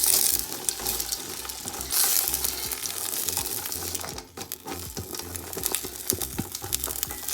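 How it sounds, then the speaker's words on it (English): Frozen green peas frying in a pot, a close crackling sizzle with irregular pops and clatter as they are stirred, loud and busy throughout. "I am going in with my green peas. It is frozen, so I wanna make sure that I fry it up a little."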